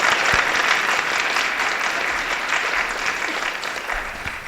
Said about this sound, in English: I would actually ask now for a round of applause for our fearless, brilliant leader, Dr. Tanya Popovich.